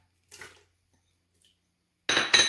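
Pieces of cut plantain dropped into a cooking pot for ginataang bilo bilo, giving two loud clunking impacts near the end after a brief faint rattle, close and clear with no talking.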